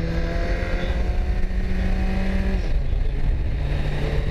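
A Kawasaki Versys 1000 motorcycle cruises with a steady, loud engine drone, close up and mixed with rushing wind noise, the engine note holding level before dipping slightly.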